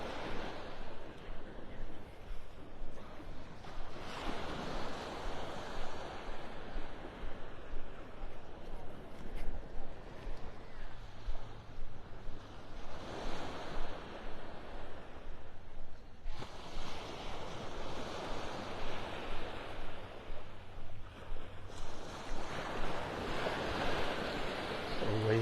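Small waves breaking on a Gulf beach shore at Delnor-Wiggins in North Naples, Florida, washing in soft repeated surges with steady wind noise, close to the water's edge.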